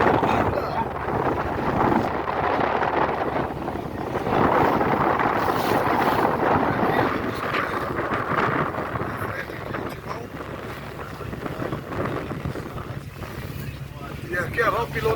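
A boat ride near Porto Seguro, Bahia, with a steady motor rumble and blustery wind buffeting the microphone throughout, while people talk over the noise.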